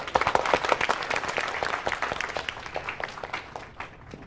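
Applause for sixth-grade students at a school results ceremony in a Hindi-dubbed drama: a dense burst of many hands clapping at once, loud at first and slowly thinning and fading toward the end.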